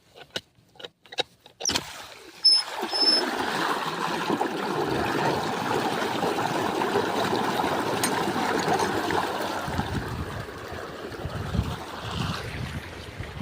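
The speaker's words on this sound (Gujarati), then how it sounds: "તો હવે આપણે ખોલી નાખશું પાણીને" After a few sharp knocks, a steady rush of irrigation water released into a farm field starts and continues loudly, a broad gushing noise that eases slightly toward the end.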